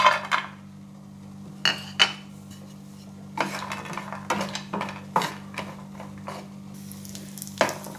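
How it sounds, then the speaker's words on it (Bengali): Dry fruits frying in a spoonful of ghee in a pan on a gas stove, with a low steady sizzle broken by sharp metallic clinks and scrapes of a spoon stirring against the pan, several of them spread across the stretch. "এখানে আমি এক চামচ ঘি দিলাম দিয়ে ড্রাই ফ্রুটসগুলো ভেজে নেব"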